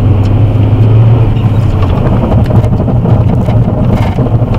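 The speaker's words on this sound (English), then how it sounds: "That should be a good demonstration of ABS brakes for you." Car braking hard with anti-lock brakes engaging: a loud, continuous rumbling road and engine roar with a dense rapid pulsing texture throughout, no speech.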